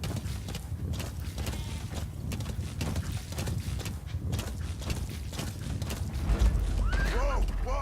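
Horse hooves clip-clopping at a steady walking rhythm in the video game Metal Gear Solid V, with a low music bed and a voice talking over it.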